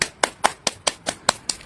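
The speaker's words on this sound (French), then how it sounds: "Applaudissons pour lui" Eight evenly spaced, sharp claps sound close and clear, each a crisp slap with a short tail, at a steady rhythm of roughly five per second, with no crowd or voices behind them.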